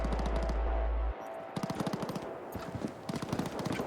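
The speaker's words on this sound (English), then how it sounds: "Under attack! I'm taking fire!" Gunfire in the CyberBug 2077 video game: a loud, sustained low rumble gives way to rapid machine-gun bursts, close and repeated, with short pauses between volleys.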